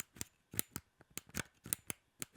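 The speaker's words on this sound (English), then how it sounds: "So you click it in, it pops out, and then you pull it out." A run of crisp, close plastic clicks and snaps, about a dozen in quick uneven succession, as a USB dongle is clicked into and popped out of the compartment of an Epomaker EP75 mechanical keyboard.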